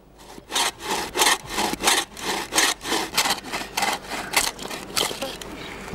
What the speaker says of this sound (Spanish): Cuando la totalidad de la madera sobresaliente ha sido perforada